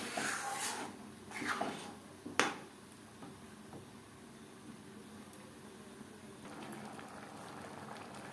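Pot of khichuri with lentils and vegetables simmering, a soft steady bubbling and faint liquid burble throughout, with a few brief louder scraping stirs near the start, quiet and close.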